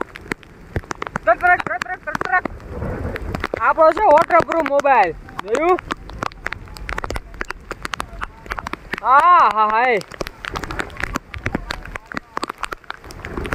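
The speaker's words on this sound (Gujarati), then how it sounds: "કેવો મોજ તો પડે વરસાદ, તડા તડી તડા તડી થયું" Wind-driven rain falls outdoors in rural Gujarat, making a steady pattering wash. People talk and exclaim over it, and their voices dominate at times.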